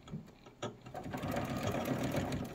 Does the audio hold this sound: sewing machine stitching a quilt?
yes